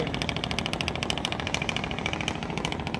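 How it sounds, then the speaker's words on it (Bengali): A trawler boat's engine, racing to catch a departed Barisal launch, chugs in a fast, steady mechanical rhythm, loud and close throughout with no voices. "এখন ট্রলার দিয়ে দিয়ে লঞ্চ ধরতেছে"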